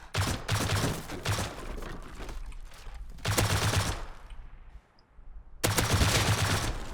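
Gunfire in the survival game Rust, coming as three loud bursts of rapid automatic shots with short gaps of quieter ambience between them.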